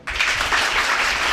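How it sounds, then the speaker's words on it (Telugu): A church congregation in a prayer house claps together, a sudden dense burst of applause that starts at once and holds steady and loud without any break. "చప్పట్లు కొట్టండి"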